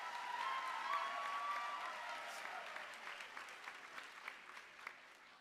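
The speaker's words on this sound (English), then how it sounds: "Give yourselves a vivacious round of applause." A university convocation crowd claps in a full round of applause, loud at first and then thinning into scattered claps as it fades, with a faint whistle early on.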